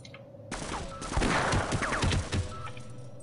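Turret gunfire in the video game Half-Life erupts after a short lull, a loud rapid volley of overlapping shots and impacts that continues to the end.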